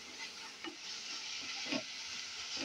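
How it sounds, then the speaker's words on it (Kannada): Eggplant pieces frying in a pan for badanekayi gojju give off a soft, steady sizzle and hiss, with occasional light taps and stirring clinks. "ಇವಾಗ ಇದನ್ನ ಚೆನ್ನಾಗಿ ಫ್ರೈ ಮಾಡ್ಕೊತಾ ಇದೀನಿ"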